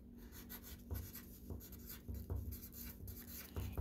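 A pencil scratches across paper as a name is written at the top of a letter W worksheet, soft steady scribbling strokes close by in a quiet room.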